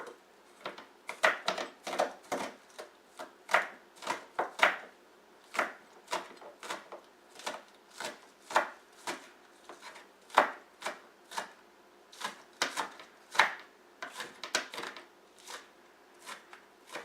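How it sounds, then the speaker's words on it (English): A knife chops green onions on a cutting board in steady bursts of crisp, close taps, some quick runs and some single strokes, with no talking. "I'm going to cut up some of the green onions"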